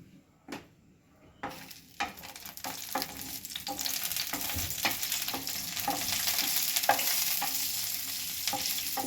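Cashew nuts frying in a pan for bottle gourd halwa, a steady hiss of sizzling that swells and holds after a few early clinks and stirs, with scattered utensil scrapes throughout and no talking.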